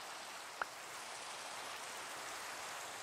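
Steady rain falls in the Minecraft video game, a constant even hiss throughout with one brief click near the start.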